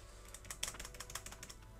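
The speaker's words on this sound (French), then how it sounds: "Vous m'entendez peut-être spammer mon clavier." Quick, rapid clatter of a computer keyboard being hammered, with fast irregular keystrokes heard faintly and close up during play of the online game Dofus.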